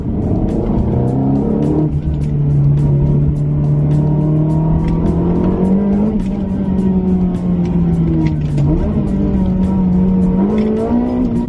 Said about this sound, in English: this car on a canyon road is absolutely a blast. I'm having a lot of fun right now on Mulholland Drive